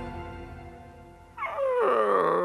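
Cartoon family dog whimpering, a sudden high wavering whine that breaks in halfway after a quieter stretch and carries on loudly to the end.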